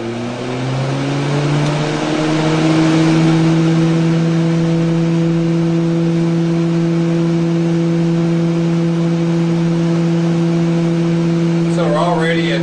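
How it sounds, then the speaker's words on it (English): A Retrotec blower fan spins up at 40% speed with a loud, steady hum that rises in pitch over the first few seconds and then holds, close by, with brief speech near the end. "You hear the fan starting up."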